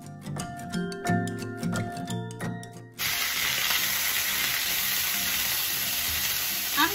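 Potatoes, peppers and onions frying in a pan, a loud steady sizzle that starts abruptly after a few seconds of clinking and music-like tones, then continues evenly.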